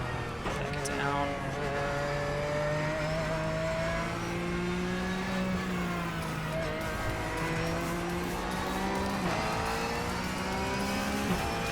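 A race car engine in the iRacing sim game revs and accelerates hard, its steady loud drone climbing and dipping in pitch through the gears across the whole stretch.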